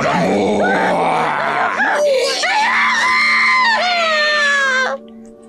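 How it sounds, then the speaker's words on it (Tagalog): Dramatized screaming in a Filipino aswang horror story, a woman's long anguished shrieks and groans rising and wavering, loud and close, then cutting off abruptly near the end. "Ang mga sigaw ni Laura ay unti-unting nalulun sa dilim"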